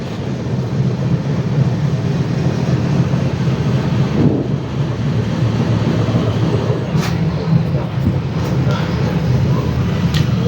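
A passenger train pulling into Chengannur railway station on a Kollam to Coimbatore run, with a loud, steady rumble of carriages on the rails and wind buffeting the microphone, plus a few faint higher squeals near the end.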